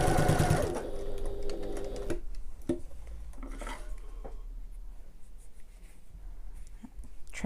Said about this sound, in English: stitch across the end